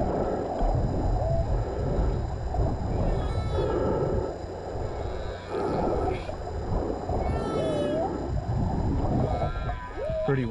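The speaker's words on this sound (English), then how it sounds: "pretty often you hear whales when you're out there swimming and surfing and spearfishing and stuff, but they were just really loud and vibrant this time" Whale song recorded underwater while spearfishing in the ocean: loud, vibrant rising and falling moans and squeals from what may be two whales, repeating over a constant rumbling wash of water.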